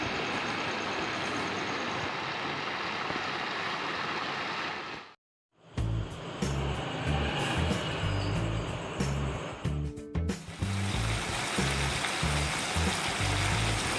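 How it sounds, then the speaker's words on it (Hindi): Masala with tomatoes frying in a pan for chicken biryani gives a loud, steady hiss and sizzle that cuts out briefly, then returns with rhythmic scraping and clattering from stirring. "मसाला फ्राई हो रहा है।"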